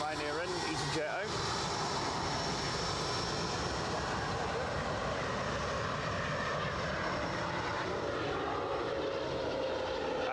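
Jet airliners from low-cost carriers Ryanair and EasyJet at Edinburgh Airport, a steady broad engine roar throughout, loud and close, with a voice talking over it.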